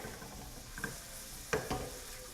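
Mushrooms sauté in bacon fat with cream cheese, giving a quiet steady sizzle broken by a few sharp spoon-against-pan clicks and scrapes.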